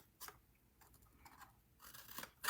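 Scissors snip through paper for a mini desk calendar, a few faint, short crisp cuts spaced unevenly and heard close up in a quiet room.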